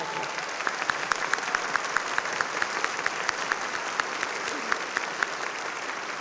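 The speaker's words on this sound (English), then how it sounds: "let's give them a round of applause and congratulate them on their accomplishment" A crowd applauds steadily, with dense clapping and a few sharper, louder claps standing out from the rest.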